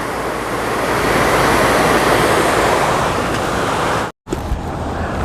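A steady broad rush of flowing water fills the scene, close and loud, with a brief dropout near the end before the splashing noise resumes.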